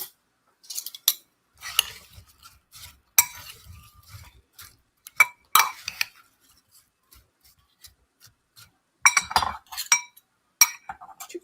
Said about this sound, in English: we're simply going to Just mix all of these ingredients together